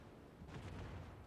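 French battleship Bourgogne fires its guns at maximum range in a naval combat video game: a single muffled, distant boom that rumbles briefly over a steady low background hum.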